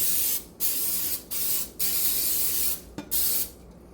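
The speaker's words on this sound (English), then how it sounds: "I'm just going to give it a quick spray." Cooking spray hissing onto a baking pan in four short bursts, close and loud, separated by brief pauses, with a faint click near the end.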